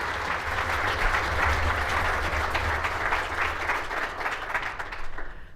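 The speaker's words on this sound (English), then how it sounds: "Ladies and gentlemen, please give them all a warm round of applause." A hall audience at the B20 South Africa handover of recommendations gives sustained, dense applause at an even level from start to finish, with many hands clapping together.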